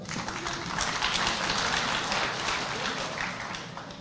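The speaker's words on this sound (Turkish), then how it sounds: "Bir kez daha kocaman alkışlarınız genç kardeşlerimize gelsin." An audience applauds young performers at the opening ceremony of the East Turkestan national unity council, steady hand-clapping filling the hall over a continuous four-second stretch.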